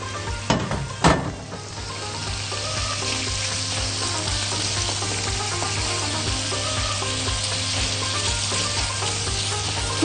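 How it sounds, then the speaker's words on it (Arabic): Minced meat sizzling in ghee in a frying pan: a couple of sharp clatters as the meat goes in, then a dense, steady, crackling sizzle that carries on evenly to the end. "هنزل اللحمة وافردها كده في الطاسة."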